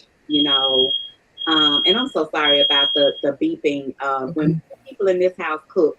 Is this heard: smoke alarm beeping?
yes